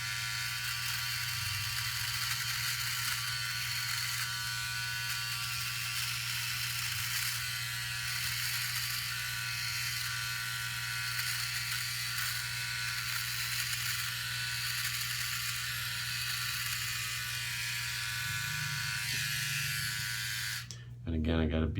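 A Philips OneBlade electric trimmer buzzes steadily and continuously while trimming a goatee, a close, even electric whir with slight pitch shifts as it moves across the beard, stopping abruptly near the end.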